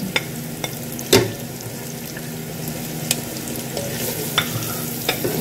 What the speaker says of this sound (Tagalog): Pwede na po natin ihulog ang ating garlic.